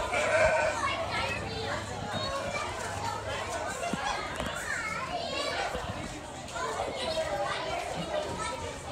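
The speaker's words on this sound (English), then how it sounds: "Goat." Goat bleats at a zoo with horse rides, heard amid busy children's voices and chatter, with people talking close by throughout.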